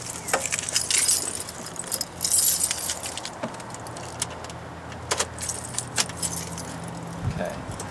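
Car keys jangle and clink close by in bursts, with small metallic rattles scattered across the clip, during a restoration of an old wagon in a quiet garage-like space.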